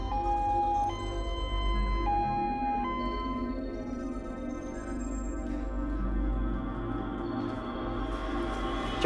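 An ambulance siren wails continuously with a steady, cycling tone at moderate loudness, heard alone with no voices over it.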